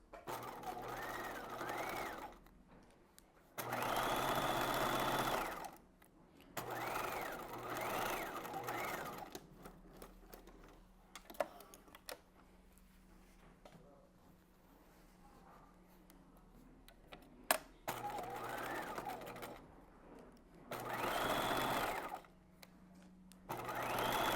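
A sewing machine runs in several bursts of a few seconds each, whirring steadily while stitching bodice seams at a 5/8-inch allowance, with quieter pauses and small clicks between runs.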